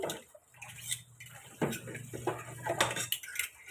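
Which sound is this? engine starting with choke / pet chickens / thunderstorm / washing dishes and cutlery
washing dishes and cutlery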